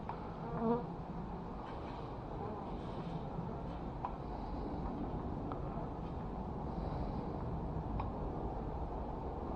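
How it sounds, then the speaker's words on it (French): Steady buzzing of hornets and bees flying close around an anti-hornet tent at a beehive, a dense insect drone with a few louder passes going by. "le frelon vole, se pose même pas, il porte une proie qui est quand même assez lourde"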